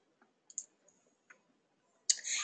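Sparse mouse clicks while navigating a computer settings menu: a few light, isolated ticks spaced irregularly, then a louder burst of clicking at the end, all close and quiet with no speech.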